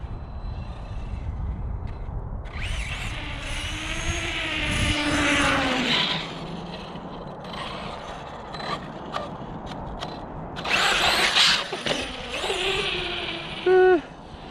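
An Arrma Talion 6s RC car fitted with a wheelie bar drives past, its electric motor whining and rising and falling in pitch with bursts of acceleration, a near pass and scraping wheel noise, with faint wind in the background.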